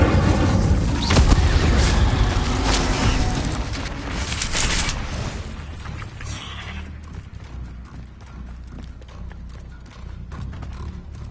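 A spell being cast in Hogwarts Legacy: a loud, dense roaring burst of fire that swells for several seconds and then fades into a quieter, crackling tail.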